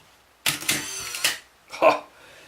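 The shutter release on a Canon T50 film camera fires, a burst of mechanical clatter and motor-wind whir followed by a second shorter clunk, close and fairly loud with no talk.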